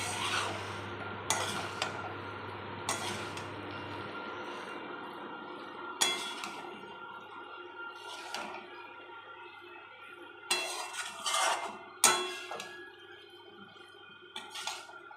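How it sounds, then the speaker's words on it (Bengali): Pasta being stirred and mixed with pasta masala in a pan, giving soft continuous scraping and stirring with occasional light clinks of utensil against the pan, fairly close and moderately quiet. "এবার অ্যাড করব পাস্তা মশলা। দিয়ে ভালো করে মিশিয়ে নেব।"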